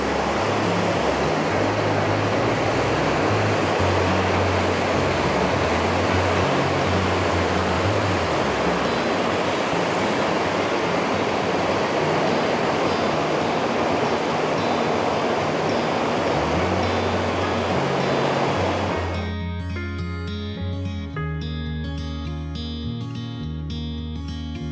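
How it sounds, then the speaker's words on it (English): Fast-running creek beside a trail bridge on the South Fiery Gizzard trail in Tennessee, heading toward Foster Falls, rushes in a loud steady wash for most of the stretch before music takes over near the end. "This creek right here will lead to Foster Falls"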